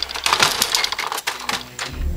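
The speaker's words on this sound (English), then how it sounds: "I have a typewriter and I'm not afraid to use it." Keys on a typewriter struck in a quick, irregular burst of sharp mechanical clacks, close and fairly loud, with no voices.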